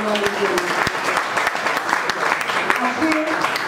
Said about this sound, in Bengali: তার জন্য একটা বড় করে হাততালি এবং অভিনন্দন